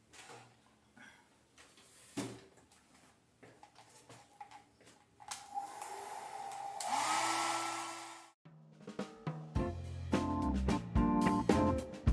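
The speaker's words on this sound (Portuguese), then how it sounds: "Usar o secador de cabelo aqui mais uma vez." A hair dryer blows in a steady rushing burst of about two seconds, drying an ink-wash drawing, amid quiet rustling and tapping, followed by clattering handling sounds.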